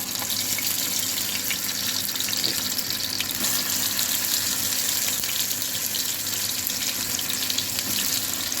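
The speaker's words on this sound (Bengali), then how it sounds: "এইভাবে সব ছেড়ে ভেজে তুলে নিতে হবে" Chicken tikia patties frying in hot oil, a steady dense crackling hiss that holds evenly throughout with no pauses and no voices.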